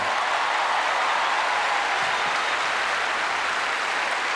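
Wimbledon crowd on opening day applauding John McEnroe, a dense, steady roar of clapping from a large audience that fills the whole stretch without a break.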